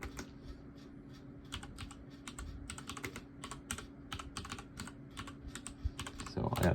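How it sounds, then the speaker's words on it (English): Steady rapid clicking of a computer keyboard being typed on, close up over a low background hum, with a brief rustle near the end. "So I gotta type it in."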